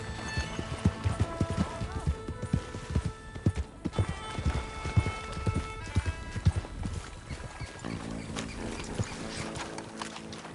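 Rhythmic hoofbeats of a galloping horse in Red Dead Redemption 2, fairly loud and continuous, with a whinny mixed in and a light musical backing.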